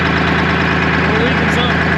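A 1975 International Loadstar 1850 truck's engine idles steadily with a loud, even rumble and regular knocking pulse, close to the microphone, while a person talks over it.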